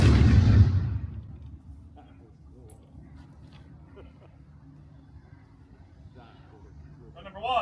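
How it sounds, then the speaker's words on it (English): Historical artillery gun fired at a ceremonial demonstration in Chatham County, Georgia: one loud, sharp blast at the start that quickly decays, followed by quiet murmuring and a faintly spoken command. "Gun number 1, commence, fire."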